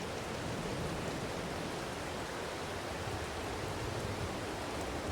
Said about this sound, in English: Oh, of course it's raining.